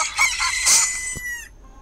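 A chicken in the Roblox game Piggy, on an old roleplay map, gives one short, loud, close squawking call that fades after about a second and a half, heard alone without talk.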